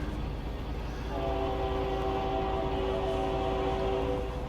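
A train horn sounds in American Truck Simulator, a sustained chord-like blast that starts about a second in and holds steady over low rumbling rail noise, fairly close.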